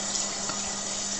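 Tap water runs steadily over raw tripe in a sink, a continuous close hiss of flowing and splashing water with no speech.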